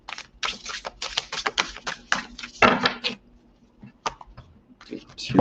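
Tarot cards being shuffled, a rapid run of dry papery riffles and taps in quick bursts, close and fairly loud, followed by a few separate single taps and another short flurry.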